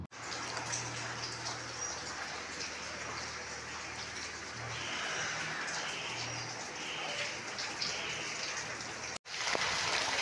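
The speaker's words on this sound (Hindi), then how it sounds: "देखिए कितना अच्छा बारिश आ रहा है" Heavy monsoon rain falls in front of a house in flooded Kushinagar, a steady, even patter that fills the whole stretch, with faint bird calls in the background and one brief cut near the end.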